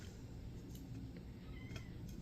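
A kitten cries out after being stepped on by another cat, giving short, faint high squeaks over steady low background rumble.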